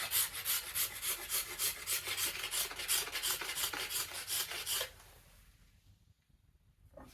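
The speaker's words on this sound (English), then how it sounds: "the beautiful card scraper or cabinet scraper" A card scraper rasps along a yew wood bow limb in quick, even back-and-forth strokes, close and crisp, for about five seconds before stopping and leaving faint room quiet.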